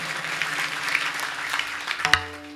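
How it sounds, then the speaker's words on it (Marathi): An audience claps together at a Marathi kirtan, a dense patter of applause that runs throughout with a few louder bursts near the end, over sustained instrumental tones. "जोरदार टाळी वाजवा"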